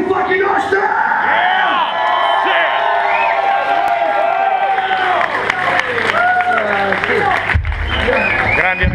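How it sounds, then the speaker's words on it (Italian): A concert crowd at a metal tribute night roars with applause, whoops and cheering, loud and sustained throughout, with shouting voices mixed into the din. "round of applause"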